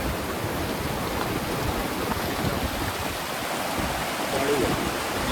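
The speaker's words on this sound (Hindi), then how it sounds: "अभी जो पहले वाटरफॉल दिखाई है वो यहीं से पानी नीचे जा रहा है और वाटरफॉल बन रही है" A waterfall in Khaplu Valley pours water from above, a steady, close and loud broadband rush that continues unbroken with no break or change.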